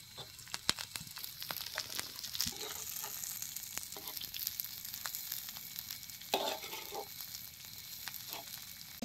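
Chickpea greens fry with garlic and chillies in a pan over a village wood-fired clay stove, a faint steady sizzle with scattered crackles and occasional stirring scrapes.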